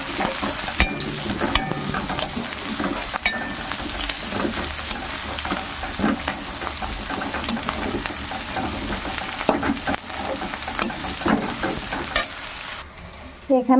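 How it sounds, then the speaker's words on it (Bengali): Chopped onion fries in oil with garlic and ginger for a chickpea-leaf greens dish, a loud continuous sizzle up close with regular stirring scrapes and clinks throughout. "এবার আমি দিয়ে দেবো একটা পেঁয়াজ কুচি পেঁয়াজটাকে একটু ভেজে নেব এখানে"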